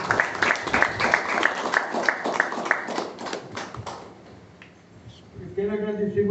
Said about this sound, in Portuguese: Batemos uma salva de palmas para ele